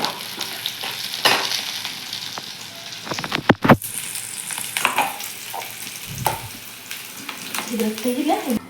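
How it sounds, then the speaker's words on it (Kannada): Oil crackles and sizzles loudly as spices hit the hot pan for tempering sambar, with bursts of spattering and stirring, close up. "ಈಗ ನೋಡ್ರಿ ಸಾಂಬಾರಿಗೆ ಒಗ್ಗರಣೆ ಕೊಡಕತ್ತಾರ"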